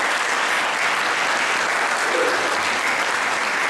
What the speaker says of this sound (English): let's give a round of applause to the candidates themselves